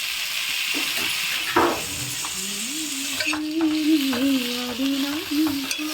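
Cut potatoes sizzle in hot oil in a pan while a spatula stirs them with intermittent scraping and clatter, close and steady throughout with no talking.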